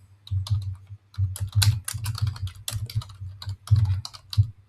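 Computer keyboard typing in bursts of quick, irregular keystrokes, close and clear, with brief pauses between runs and no voices.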